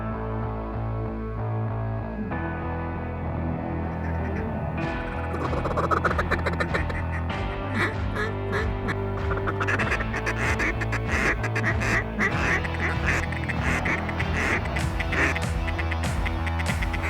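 Blue-winged teal ducks on Texas water quack repeatedly, a busy chorus of overlapping calls from several birds, some near and some farther off, continuing without pause.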